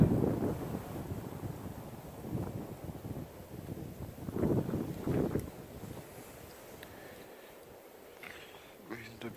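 Wind gusting across an open brush field from a ladder stand during Minnesota's 2016 firearms deer season, a steady low rumbling buffet on the microphone that swells and eases throughout.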